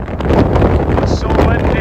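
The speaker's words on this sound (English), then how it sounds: "It's so windy." Strong wind buffeting the microphone on a Scottish mountain top beside a trig point, a loud continuous roar and rumble filling the whole moment without letting up.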